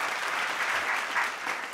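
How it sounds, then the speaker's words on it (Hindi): Steady, dense applause from an audience at an awards event for a special guest, continuous and fairly loud throughout with no pauses. "एक बार जोरदार तालियां हमारे स्पेशल गेस्ट के लिए।"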